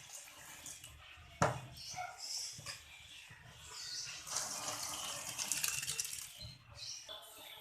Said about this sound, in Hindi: इसमें हम चावल छान लेंगे।